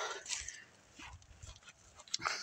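Dogs just found after going missing whimper and yip in short, high, uneven bursts, close by and fairly quiet, with a few sharper yelps near the end.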